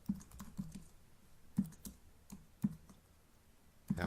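Typing on a computer keyboard while writing a basic HTML document: soft, close key clicks in irregular bursts with brief pauses, quiet and without talk.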